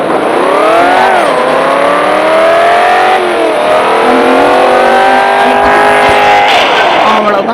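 A European luxury car engine revving hard and close, its pitch repeatedly climbing and dropping in loud sweeping surges, with no pause in the roar.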